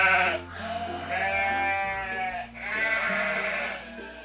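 A lamb bleats twice in quick succession, two clear, wavering cries close to the listener with a short dip between them and no talk.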